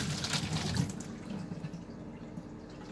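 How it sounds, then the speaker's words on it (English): Water spurts from the pressure relief valve of a gas water heater tank in a short rushing hiss for about a second, then trails off into a quieter trickle. "So right now, if I press it, some water comes out."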